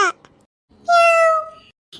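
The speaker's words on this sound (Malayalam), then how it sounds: "അയ്യോ പൂച്ച" A single loud, close cat meow, drawn out and slightly falling in pitch, preceded by a brief squeak and otherwise quiet surroundings.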